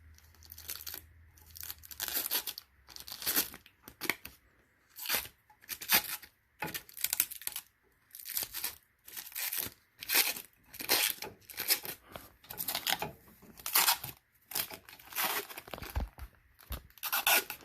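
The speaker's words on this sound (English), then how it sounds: "Before I cinch them down, obviously I'm gonna peel the plastic off." Protective plastic film peeling off new LED headlights for a Porsche 944, heard as a long series of loud, close crackling tears in repeated bursts with short pauses, no talking.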